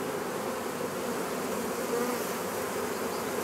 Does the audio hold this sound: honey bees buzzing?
yes